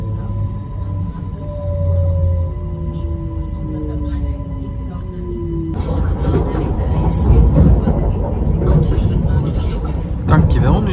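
An NMBS Desiro train pulls out of Antwerp, heard from inside. Steady motor whine with rising tones gives way to louder, rumbling running noise as it gathers speed. A voice talks over part of it.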